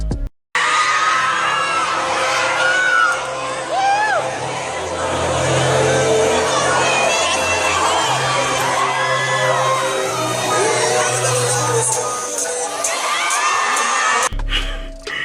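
A high school talent show audience screams and cheers loudly and continuously, with shrill whoops and shouts layered over a dense crowd roar that fades abruptly near the end.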